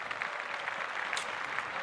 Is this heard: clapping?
yes